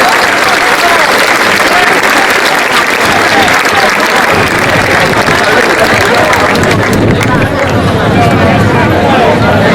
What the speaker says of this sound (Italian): Lo salutiamo con un applauso.